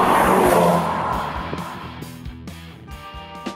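A Volkswagen Club Sport revs and accelerates, its engine note loud at first and then fading as it pulls away, with sharp shifts and rhythmic pulses as it goes.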